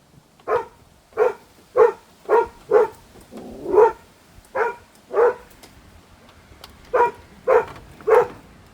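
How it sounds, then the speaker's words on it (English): Dog barking outdoors in about a dozen sharp, separate barks spaced roughly half a second to a second apart, loud and close, with no talking over it. "no more barking"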